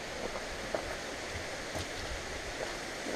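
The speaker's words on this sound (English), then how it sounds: "Got to almost go through a waterfall here." A mountain stream and waterfall rush steadily at a hiking crossing, a faint, broad, even wash with a few small splashes and knocks, and no voices.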